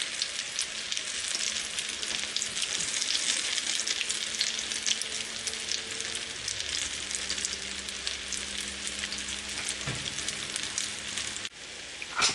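Chicken and lentil shami kebabs of precooked mixture fry in a hot pan, giving a steady, dense sizzle that runs unbroken at moderate loudness with faint background hum and no voices.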